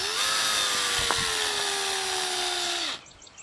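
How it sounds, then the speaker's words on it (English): Hand drill with a 5/16 inch bit boring into a pipe cap for a potato gun, a steady high motor whine with its pitch sinking slightly under load before it cuts off near the end. "we're going to take a hand drill and a 5/16 inch drill bit, and we are going to drill a hole on one edge of the cap"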